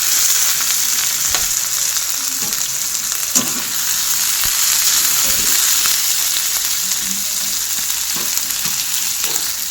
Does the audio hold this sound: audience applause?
no